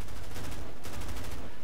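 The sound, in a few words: gunfire in Medal of Honor video game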